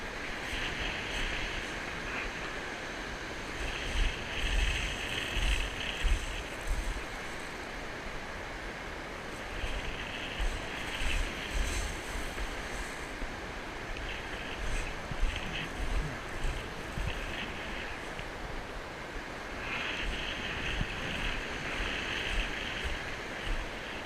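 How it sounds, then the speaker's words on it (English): Steady wind blows across the shingle of Chesil Beach during an October shore fishing session, a constant broad rush with gusty swells and distant surf, moderately loud and without talk. "Wind's just dropping a bit, which is lovely."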